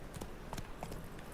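Hooves of Roach, a horse in The Witcher 3 video game, clopping in a quick galloping rhythm, several soft strikes over a brief moment, faint and muffled.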